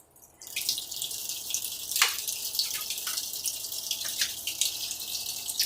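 A sink tap runs steadily with water splashing into the basin for a cockatiel's bath, a continuous close hiss with a few brief drips and splashes standing out.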